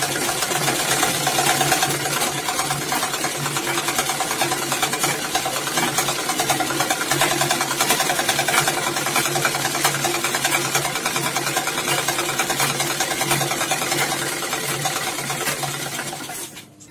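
A tailoring sewing machine stitching a gents pant, a steady close mechanical whir running continuously for about sixteen seconds before stopping.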